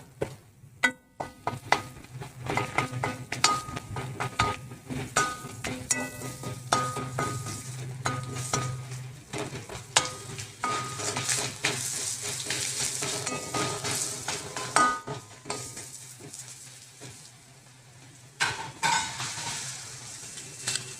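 Finely chopped garlic cloves fry in a pan while a spoon stirs them, a soft sizzle under repeated scraping and clinks of utensil on metal, close and steady, with a brief quieter pause near the end.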